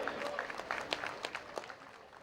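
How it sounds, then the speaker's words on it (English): An audience claps for commentator Haseeb Ahmed at a mixed martial arts fight event, a quiet, fairly distant round of applause with scattered claps and some voices mixed in. "in a huge round of applause, please welcome right there in the commentary panel, Mr. Haseeb Ahmed"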